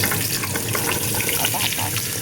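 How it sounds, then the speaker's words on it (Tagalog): Carrots sautéing in hot cooking oil in a pan for a beef stew, a dense continuous sizzle with scattered crackles and stirring scrapes, close and fairly loud throughout. "pinainit ko yung mantika sa may kawali. Nagisa ko muna guys yung mga carrots, saka"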